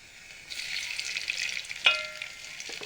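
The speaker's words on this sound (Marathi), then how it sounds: "आपण कांदा भाजून घेऊया आपण त्याच्यामध्ये तेल टाकूया" Onion frying in oil in a pan, with a soft, steady hiss of sizzling that rises after a quiet start, and a sharp metallic clink of a utensil partway through. No speech.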